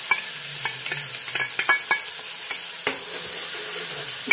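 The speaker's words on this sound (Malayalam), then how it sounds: "ഇതിലേക്ക് നമുക്ക് വെളുത്തുള്ളി അരച്ചത് ഇട്ട് കൊടുക്കാം." Ground garlic and ginger paste sizzling in hot oil, a bright steady crackle under repeated sharp spatula scrapes and taps against the pan, loud and close, with nobody speaking.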